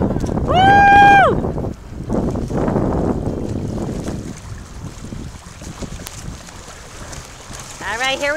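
Strong wind at Hapuna Beach, Hawaii roars and buffets the microphone steadily alongside surf, with excited shouting and a whistle-like call early on and people talking throughout.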